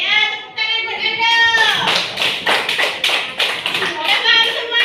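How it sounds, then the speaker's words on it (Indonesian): A fourth-grade primary school class breaks into applause after a voice speaks, the claps sharp, close and rhythmic, with children's voices mixed in. "Ya, tepuk tangan buat Anda."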